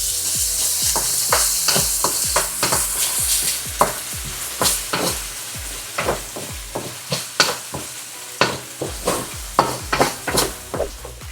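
Tomato paste being sautéed in a pan for chicken afritada, a steady sizzle under a repeated scraping, stirring rhythm of utensil strokes against the pan, close and fairly loud with no talking.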